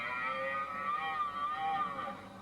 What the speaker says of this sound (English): The sound you just hear then was a roar for the challenge of other deer to tell them to stay away.